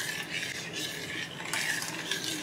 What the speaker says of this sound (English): we're going to just stir this until it thickens.